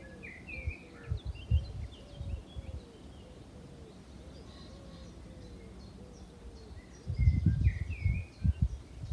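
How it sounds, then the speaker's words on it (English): Birds chirp and coo outdoors, with scattered calls over a soft background hum; low rustling thumps come and go, and a faint insect buzz may sit underneath. "what we just listen to, the birds, the bees."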